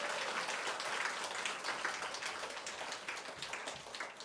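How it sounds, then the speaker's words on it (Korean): A congregation at a Korean church family retreat applauds in thanks to God, a fairly quiet but continuous wash of many hands clapping that swells early and gradually tapers. "우리 하나님께 정말 감사의 박수 한번 올려주시면 좋겠습니다."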